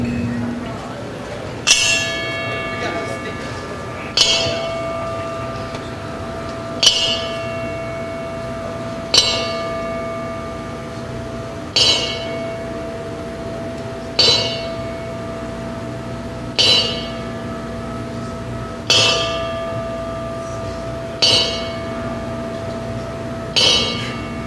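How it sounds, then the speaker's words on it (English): Ten slow, evenly spaced strikes of a ringside bell ring out at a wrestling event as a memorial salute, each clear metallic clang decaying over a steady murmur of a quiet crowd. "Please join us out of respect for a moment of silence and a 10-bell count"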